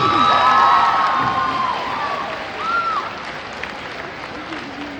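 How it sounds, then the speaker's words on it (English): At a spring sport pep rally, a crowd in a gym claps and cheers for the varsity cheer team, with loud applause, shouts and whoops that slowly fade, and voices heard through it. "So let's give it up for your varsity cheer team."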